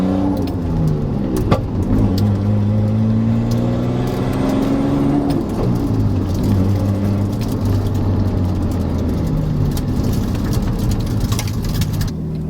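A manual-transmission car pulls away from a stop as the clutch is eased out. Its engine hum rises steadily and then settles, constant and fairly loud throughout, with steady background noise.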